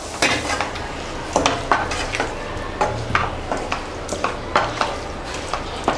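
A utensil scrapes and clinks against a pan while mixing village-style dry chicken with fresh coriander, with a faint sizzle underneath and a steady rhythm of sharp metallic strokes, close and moderately loud.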